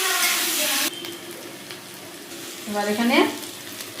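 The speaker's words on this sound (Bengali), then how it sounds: "মশলার পেস্টটা দিয়ে দিলাম, এটা দিয়ে একটু ভালো করে কষাবো" A spice paste of tomato, cumin, garlic and onion hits hot oil in a pan, a loud hiss that drops to a steady sizzle with stirring, while someone speaks briefly over it.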